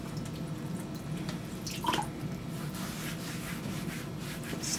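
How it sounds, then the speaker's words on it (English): Water is added while working on a utility knife sheath, with faint trickling and a few small drips over a steady background rumble, close and quiet. "Some more water in there."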